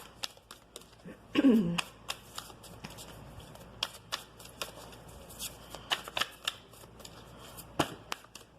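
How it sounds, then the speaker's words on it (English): Oracle cards are shuffled by hand in quick, close papery flicks and taps with a brief louder rustle early on, and no talking. "let's take some oracle cards"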